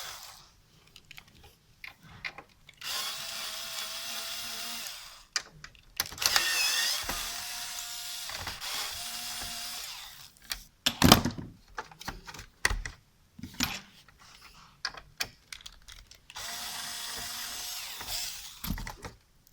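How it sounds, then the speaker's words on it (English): Screws are backed out of the stand on an Acer AL1716F monitor with a small electric screwdriver, several short whirring bursts close by and separated by quiet pauses and faint handling noises. "now we'll remove this stand by removing about 4 screws attaching to the monitor"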